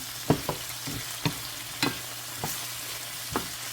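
Water spinach (kangkong) is stirred in a pan, with about eight distinct scraping strokes of the utensil spaced unevenly over a low, steady sizzle, close and fairly quiet.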